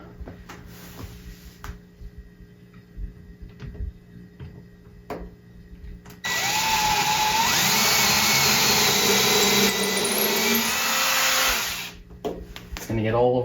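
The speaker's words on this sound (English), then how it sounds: "Let's drill the holes." A power drill boring holes while Halloween decorations are put up, a steady loud whine running for about six seconds and then stopping, with indistinct voices and clatter before it.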